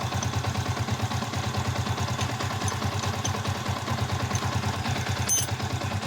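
A Yamaha Sniper 150 motorcycle engine idles with a steady, fast metallic rattling from a defective tensioner ticking over it, close up and continuous.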